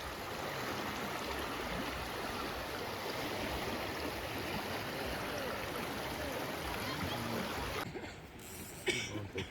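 A river in Collias flows past rocks, a steady close broadband rush of water running throughout, thinning out near the end as a few brief clicks appear.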